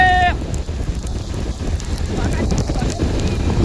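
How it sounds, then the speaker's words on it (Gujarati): Steady rain pours down with gusts of wind buffeting the microphone, a brief tonal beep at the start. "આપણી બાજુ બહુ વરસાદ છે"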